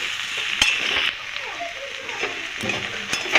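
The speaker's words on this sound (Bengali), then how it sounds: "নেড়ে চেড়ে ভালো করে একটুখানি কষিয়ে নেবো সবজিটার সাথে মশলাটাকে।" Beet and carrot pieces stir-fried with roasted cumin, coriander, dried chili and cardamom, a steady sizzle running under sharp spoon scrapes and clinks against the pan.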